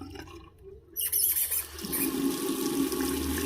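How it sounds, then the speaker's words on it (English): A bathroom faucet gushes on after a few quiet moments, water splashing steadily into a sink at close range. "you'll wash your hands under here, so you'll hear constant movement of water"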